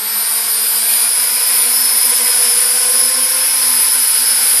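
A Syma X9 flying car quadcopter drone hovers on its maiden flight in low rates, its propellers giving off a steady, loud, high-pitched whine with a constant low hum beneath, continuous and alone.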